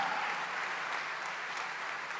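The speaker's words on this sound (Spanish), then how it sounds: "Dale fuerte tu aplauso al Cristo de la gloria" A church congregation claps during a service, a steady broad wash of applause from many people that fills the room evenly from start to finish.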